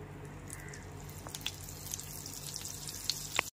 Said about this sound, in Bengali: পনির ভাজার ওই একই তেলের মধ্যে দিয়ে দেব 1 টেবিল চামচ বাটার।